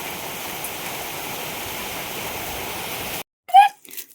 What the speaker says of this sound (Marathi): खूप जास्त आणि जोराचा पाऊस आला.